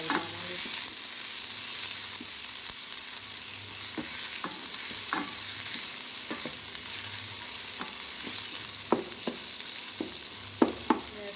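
Spices sizzle and crackle steadily in hot oil up close for a tempering on mustard greens, with occasional sharp pops and stirring scrapes.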